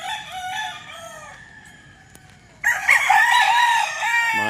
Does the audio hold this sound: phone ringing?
no